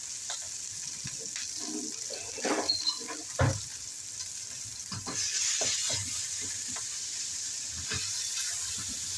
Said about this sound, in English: Break this down, let it fry all the way through.